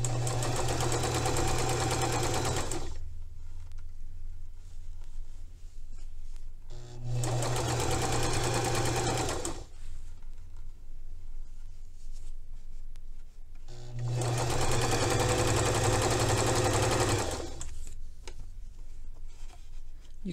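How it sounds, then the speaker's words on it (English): Sewing machine stitching a sleeve hem close to the fabric edge, running in three loud bursts of steady, fast stitching separated by quiet pauses. "I like to sew real close to the edge, and sometimes my fold gets pulled up between the toes of the presser foot."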